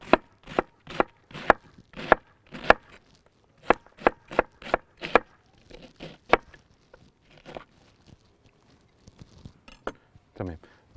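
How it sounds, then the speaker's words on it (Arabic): A knife chops cabbage for a salad on a board in quick, crisp bursts of evenly spaced strokes, pausing and then resuming, with occasional speech between the cuts. "وبرده هقطعه نفس التقطيعه"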